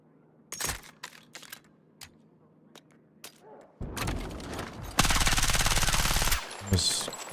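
Video game gunfire: scattered sharp single shots early on, then a loud, sustained rapid automatic burst that fills the final seconds.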